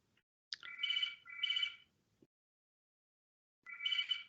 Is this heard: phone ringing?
yes